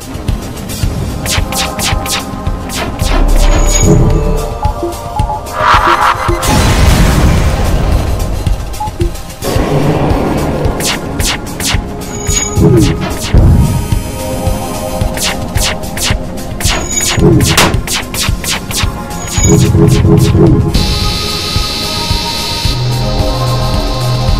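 Rock ship weapons firing at the shields of a spaceship in FTL, with intermittent crashes and booms scattered over a throbbing electronic hum and game music, fairly loud.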